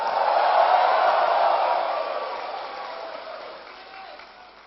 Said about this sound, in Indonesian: tepuk tangan buat yang atas